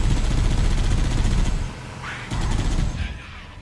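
Rapid, loud gunfire bursts from Halo CE Anniversary rattle through the first second and a half, then drop to quieter scattered shots and game noise.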